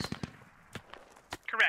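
In the video game Squad, .50 cal machine gun fire comes as a few sharp, irregular cracks scattered over a quiet background, and a voice briefly joins at the end.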